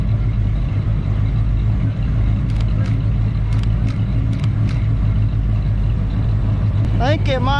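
A Mustang at a Route 66 car festival rumbles with a loud, continuous engine drone amid the crowd, with sharp crackling pops partway through and a rising whine near the end. Voices can be heard under the noise.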